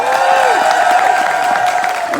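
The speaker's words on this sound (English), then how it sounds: "can we get a big round of applause for the Power Rangers" A convention crowd applauds and cheers for Power Rangers Zeo and Turbo cast members at a reunion panel. The noise is loud and continuous over a steady sustained tone.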